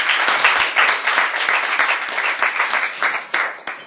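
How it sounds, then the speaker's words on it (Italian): An audience claps to welcome a speaker at an Italian conversation event, a dense, steady round of applause that swells and fades slightly over a few seconds, with no talking over it. "farei un applauso."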